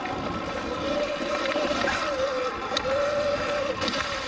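A Segway X160 electric dirt bike ridden off-road over jumps and drop-offs gives a steady, wavering electric motor whine under constant wind rush, close and fairly loud throughout.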